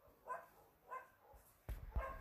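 Dogs barking indoors at a home, three or four separated barks at moderate distance, fairly faint, followed by a louder thump of movement at the end.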